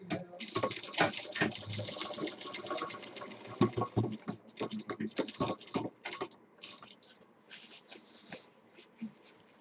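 A sewing machine stitches a stylish handbag, its rapid mechanical clatter running in bursts with short stops and restarts, close and steady before tapering into scattered ticks.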